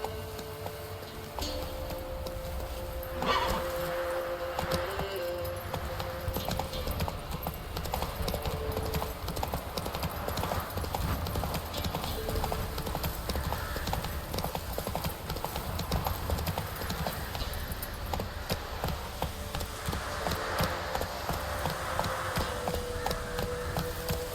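Roach the horse galloping in The Witcher 3, rapid rhythmic hoofbeats pounding steadily and close throughout, with faint background game ambience.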